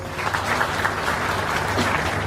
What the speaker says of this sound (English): Will we again give them a round of applause?